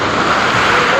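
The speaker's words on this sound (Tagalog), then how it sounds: "Napakalakas ng mga alon at malalaki yung alon." Big, strong ocean waves crash at the sea, a loud steady roar of surf and wind filling the whole moment without pause.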